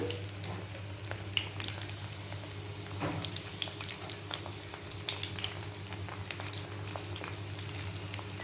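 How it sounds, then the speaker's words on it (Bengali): Capsicum and onion fry in a pan, giving a steady, close crackling sizzle with scattered sharp pops and no voices. "এক পিঠটা করে উল্টে নিতে হবে, ভাজাটা হচ্ছে।"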